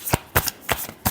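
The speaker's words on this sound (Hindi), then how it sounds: "लास्ट शफल, बहुत सारे कार्ड्स हैं।" A deck of tarot cards shuffled by hand, heard as four quick, crisp riffling bursts in close succession, loud and near, with no voice over them.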